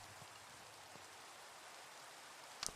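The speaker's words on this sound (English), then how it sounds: "Rain." Rain falling in Minecraft, a faint, steady hiss of drops throughout with a brief sharp click near the end.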